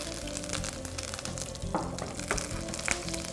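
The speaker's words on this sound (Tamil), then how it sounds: "ஸோ கடுகு நல்லா பொரிஞ்ச பிறகு கொஞ்சம் கறி லீஃப் போடுறோம்." Mustard seeds spluttering in hot oil in a pan, a busy crackling sizzle with sharp pops scattered throughout, close and fairly quiet, no talk.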